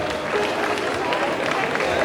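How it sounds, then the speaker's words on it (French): An audience applauds singers at a 2010 souvenir concert in Fontaine, a steady wash of clapping from the crowd that holds without a break across the whole moment. "On peut les applaudir."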